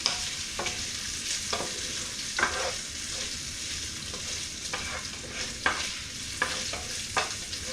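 Bacon for pasta carbonara fries in a pan outdoors beside a hot tub, making a constant close sizzle broken by scraping strokes as it is stirred every second or so.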